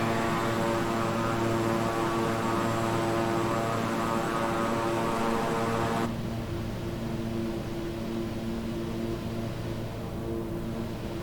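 Steady, loud droning of a King Air 350i twin-engine propeller aircraft in Microsoft Flight Simulator, flying from Casper to Riverton, Wyoming, a continuous engine hum that shifts slightly in tone partway through.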